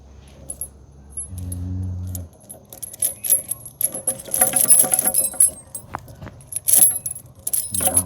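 Metal keys jangle in several short bursts, close and fairly loud, while a padlock is clicked shut to lock up a vehicle, with a low hum underneath early on.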